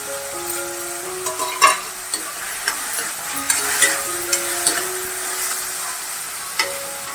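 Tomatoes sauté in a pan with softened salted onion for a mixed dal and fenugreek-leaf dish. Soft frying hiss sits under light, irregular stirring clicks, with faint tonal sounds in the background.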